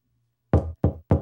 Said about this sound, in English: Somebody is knocking at the door.